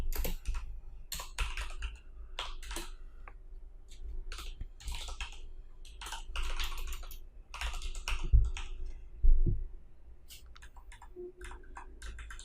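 Steady typing on a computer keyboard while writing CSS code, a continuous run of close, crisp key clicks in irregular bursts with a few heavier thumps, and no talking.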